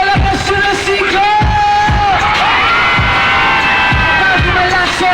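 A large crowd at an outdoor live concert at a sports complex in General Santos City cheers and shouts loudly and continuously, with whoops and sharp bangs or claps rising above the roar.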